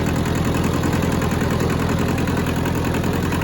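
A rusty Hinomoto tractor engine runs while mowing, a close, loud, rhythmic diesel chug with a steady low thumping pulse and no pauses or voices.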